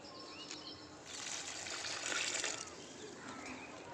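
OWDC liquid fertilizer is poured onto a chili plant in a rooftop garden, giving a soft, fairly faint gush of liquid that swells briefly in the middle, with faint outdoor chirps behind it.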